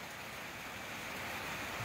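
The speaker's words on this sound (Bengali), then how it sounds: "মুষলধারে বৃষ্টি চলমান সিলেট মহানগরীর বিভিন্ন জায়গায়।" Heavy rain pours over Sylhet city at night, a steady, dense wash of noise that holds constant and fairly faint throughout, with no voices.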